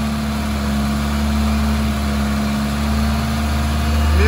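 A car engine is revved up to about 2000 RPM during a pre-purchase health check, giving a steady, loud hum with a constant tone and a slight rise in pitch and volume at the end.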